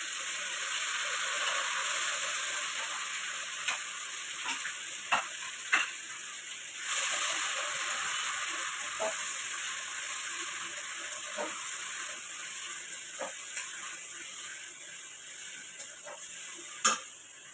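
Ginger and cumin pastes fry in a hot wok (kadai) for a Bengali dhokar dalna, giving a steady loud sizzle with intermittent scraping and clicking of a stirring spoon throughout.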